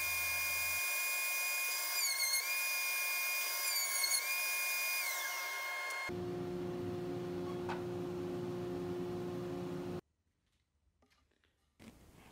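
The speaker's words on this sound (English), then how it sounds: "using my new half-inch roundover bit" A router fitted with a half-inch roundover bit shapes the edge of a wooden brick-pattern cutting board, giving a loud, steady high-pitched whine that wavers in pitch, then a lower-toned run before it cuts off into near silence.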